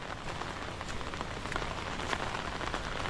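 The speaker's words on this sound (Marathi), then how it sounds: "खूप पाऊस पडतोय, खूप दिवस रात्र फक्त पावसात पाऊस." Heavy monsoon rain pours steadily onto farmland, a dense hiss of drops that swells slightly louder toward the end.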